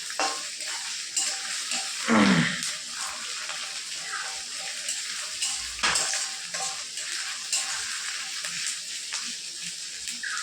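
Onion paste and green chilli frying in a pan for a chicken curry, a steady close sizzle broken by scraping stirs, with one louder clatter near the start and another around the middle.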